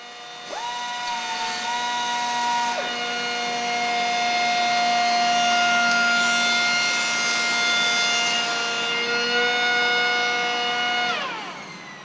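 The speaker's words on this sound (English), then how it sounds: "with banding, trimming and surface scraping all performed in one pass" Vector Revolution 180 edgebander banding, trimming and scraping wood panels in one pass, a steady high mechanical whine with sustained tones that shift pitch as a panel feeds through, then winds down.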